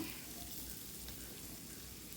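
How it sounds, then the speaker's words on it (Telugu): Green chillies, curry leaves and onions fry in a hot tempering for a drumstick and okra tamarind stew, giving a soft, steady sizzle throughout. "పచ్చిమిరపకాయలు వేసి కొంచెం వేగిన తర్వాత ఉల్లిపాయలు వేస్తాం"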